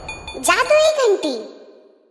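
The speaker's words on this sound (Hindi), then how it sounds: "जादुई घंटी।" A magic bell rings in a folk story, a bright tinkling chime with a few quick jingles followed by a sustained, decaying tone that fades out over a couple of seconds.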